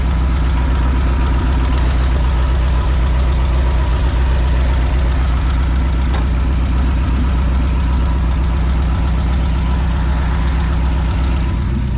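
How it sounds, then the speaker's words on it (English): A 76-year-old Pontiac engine idles loud and close, with a steady low rumble and a slight mechanical knock running evenly from start to finish. "So idling pretty smooth."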